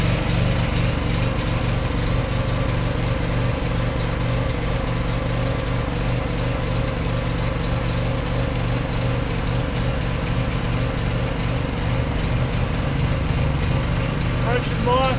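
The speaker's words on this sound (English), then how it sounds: "start your pony motor" A small pony motor on a truck trailer runs steadily to power the hydraulics that raise the gooseneck, giving a loud, continuous small-engine drone with a constant throbbing rhythm throughout.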